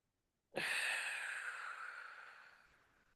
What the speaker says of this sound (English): An open mouth exhale.